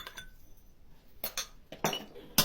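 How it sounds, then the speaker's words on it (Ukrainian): A spoon clinks and scrapes against a bowl while pumpkin is stirred with sugar and citric acid, a few sharp intermittent knocks over near silence, close by. "Все перемішуємо."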